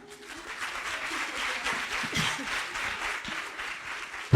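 Audience clapping in a hall at an International Women's Day event in Freetown, moderate applause that swells toward the middle and stays steady, with a few scattered nearby sounds mixed in.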